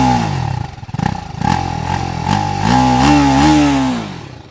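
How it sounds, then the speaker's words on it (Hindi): A TVS Apache RTR 310 motorcycle idling, its exhaust giving a loud, steady, close-up thrum with slight rises and dips in pitch throughout. "और इसका ये एग्जॉस्ट साउंड है, तो ये भी आइडल पे है"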